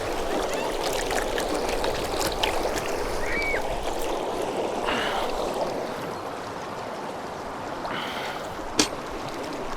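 Steady water runs and splashes as hands are washed outdoors at a resort, a continuous broadband rush with faint voices underneath and one brief sharp tap near the end.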